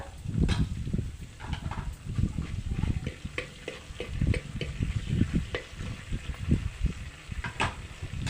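Cumin, mustard seeds and dried chilies crackle and sizzle in hot oil for a Telugu curd-based salla charu tempering, a steady close frying hiss with scattered pops and stirring scrapes, no talking.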